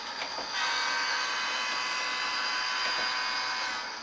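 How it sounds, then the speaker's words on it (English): A long, sustained electronic horn blast, steady and buzzy, held for several seconds from a Bachmann N scale DCC model train's small speaker nearby. "It's a long horn."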